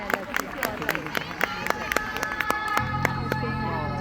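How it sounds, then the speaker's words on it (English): Scattered, uneven claps from parents at a kindergarten sports day, mixed with crowd chatter and nearby voices, with a steady tone entering partway through. "So let's give them a huge round of applause."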